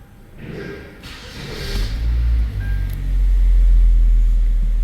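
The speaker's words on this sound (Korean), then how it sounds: "자, 일단은 시동 걸어볼게요" An older LPG-fuelled car starting up: a brief cranking, then the engine catches and settles into a loud, low, rumbling idle with a noticeable shaky vibration, close by.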